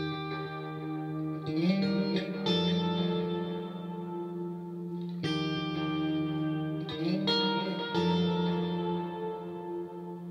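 Electric lead guitar plays a worship song riff following the chords, with notes ringing through delay and reverb, sustained tones overlapping and repeating as swelling echoes over about ten seconds, no talking.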